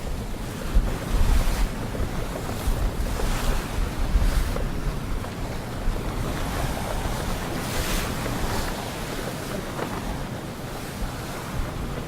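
Sailing boat at sea off the coast of Corsica in the Ligurian Sea, with steady waves washing and surging around the hull and wind buffeting the microphone, continuous and fairly loud throughout with no voices.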